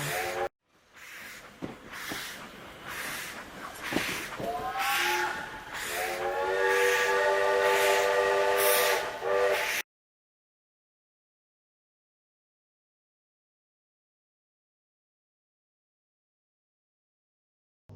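Steam locomotive departing, with loud hissing steam puffs, a chuffing rhythm and a drawn-out steam whistle, close and prominent for about ten seconds, then silence.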